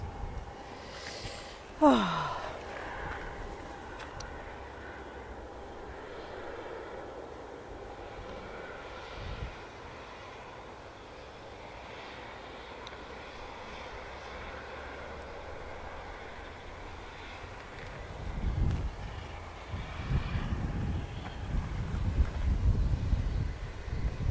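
Aircraft engines at Manchester Airport spool up as a plane prepares to get underway, a steady low rumble with wind noise and a brief swooping whine, swelling louder toward the end.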